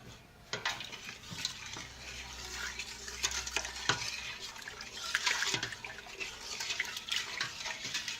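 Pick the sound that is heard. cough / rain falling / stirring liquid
stirring liquid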